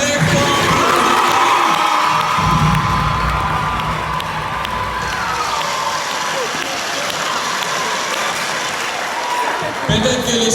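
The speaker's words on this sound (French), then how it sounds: "Applaudissons très fort." Audience applause and cheering at a school anniversary show for a collège in Matete, dense clapping with whoops and children's shouts, loud and continuous throughout.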